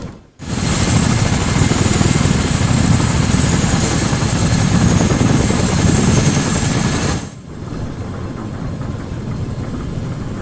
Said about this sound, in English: Did this helicopter sound that rusty before it crashed it?